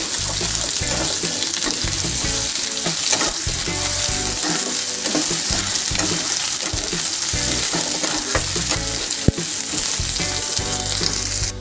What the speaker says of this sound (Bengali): এটাকেও ভালো করে একটু কষিয়ে নেব।